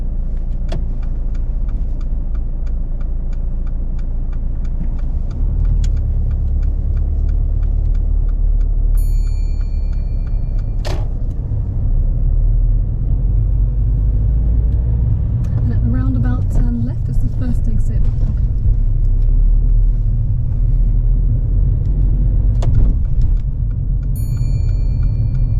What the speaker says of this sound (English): Drive off whenever you're ready.